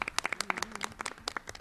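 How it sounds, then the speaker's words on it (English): A short burst of clapping from an audience in the newly renovated Nottingham Auditorium during a board of education meeting, a few sharp claps scattered under a voice that keeps talking. "And short clap."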